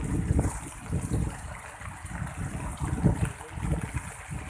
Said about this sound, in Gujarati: હાઈવે સુધી જવાનો જે રસ્તો છે તેની ઉપર થઈને પાણી વહી રહ્યું છે